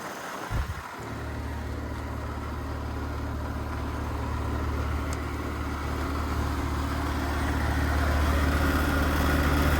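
A Carrier Comfort R454B heat pump with a Bosch motor starts up in heat mode after a brief clunk, then settles into a steady low hum and broadband whoosh that slowly grows louder.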